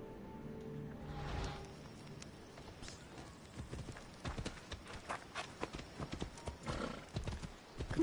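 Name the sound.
horse trotting in Assassin's Creed video game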